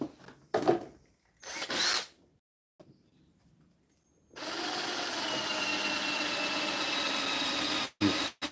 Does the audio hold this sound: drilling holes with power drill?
yes